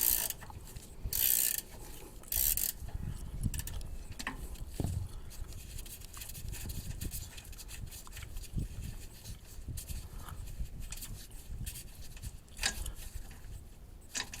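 Ratchet wrench loosening a front shock bolt on a 2007 Dodge Ram 2500, with clicking bursts and mechanical clatter at close range amid a noisy, uneven background.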